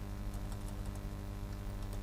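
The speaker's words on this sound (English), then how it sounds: "If you want to specify the size, you have to type semicolon, and then type" Soft, steady keystrokes on a computer keyboard while HTML code is typed, faint and continuous with no talking.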